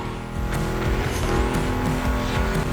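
Muscle car engines in the video game The Crew Motorfest, including a Mustang GT, roar continuously with revving and occasional tire squeal, a dense racing-engine sound with no talking.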